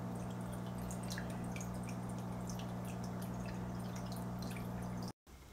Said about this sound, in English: And there goes the filter.